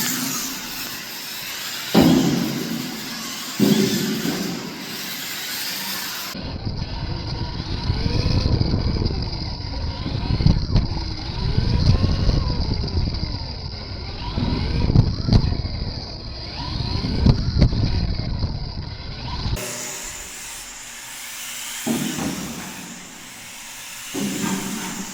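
Small Maverick Microbe RC buggy and short course truck race on an indoor carpet track, their motors whining and buzzing continuously for about twenty seconds, louder in the middle stretch with rising and falling passes.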